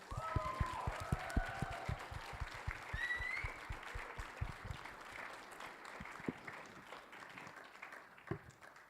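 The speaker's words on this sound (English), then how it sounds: "give the panelists one more round of applause" An audience at a panel event applauds steadily, many hands clapping together, fading gradually toward the end.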